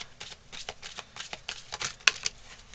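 Tarot cards being shuffled close up, a quiet run of soft papery riffles and flicks with one sharper snap near the end, no voices.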